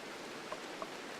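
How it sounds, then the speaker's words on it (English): Steady rain in the video game RimWorld, a constant broadband hiss of rainfall at low level, with a couple of faint soft drop-like blips partway through. "With the constant rain."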